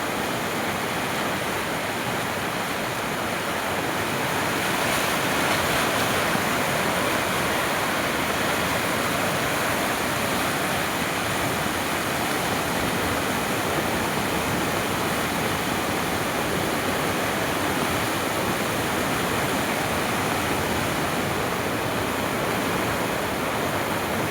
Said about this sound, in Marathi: पहिला पावसाचा पहिला पूर नदीचा हा आमच्याकडे आहे मित्रांनो